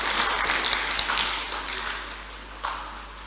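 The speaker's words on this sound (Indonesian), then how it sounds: "Tepuk tangan untuk Inhil." Audience applause at an Indonesian regional innovation award ceremony, a dense wash of clapping in a hall that tapers off over a few seconds, with a faint steady hum underneath.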